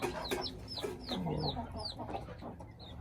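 White hens cluck nearby in short, repeated calls, a few birds overlapping at a fairly quiet level.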